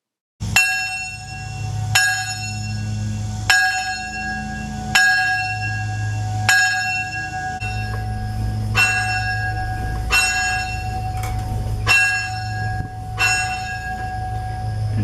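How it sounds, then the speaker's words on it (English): A steam locomotive's bell at the Heart of the Heartlands Railroad Museum in Carona, Kansas rings loudly and steadily, about ten evenly spaced clangs with bright lingering overtones over a low background rumble. "even ring the locomotive's bell"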